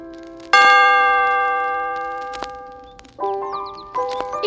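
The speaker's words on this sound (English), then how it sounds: "when you hear the chime," A bright storybook page-turn chime for a Strawberry Shortcake read-along in Strawberry Land: one clear ringing tone that fades slowly, then a softer two-part bell ding-dong follows, alone with no talk.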